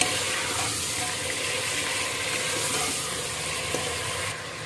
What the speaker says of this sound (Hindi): मटन को अच्छे से भून लेना है जब तक इसका कलर थोड़ा चेंज नहीं हो जाता